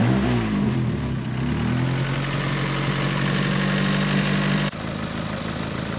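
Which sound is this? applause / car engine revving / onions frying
car engine revving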